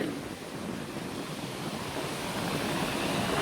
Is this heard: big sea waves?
yes